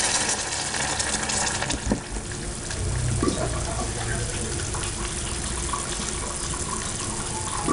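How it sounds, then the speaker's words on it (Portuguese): Water pours steadily into a cooking pan on a home stove while Sunday lunch is made, giving a continuous gushing, hissing wash that stays fairly quiet. "Aí eu vou colocar água."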